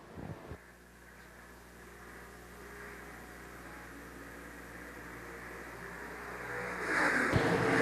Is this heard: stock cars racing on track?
yes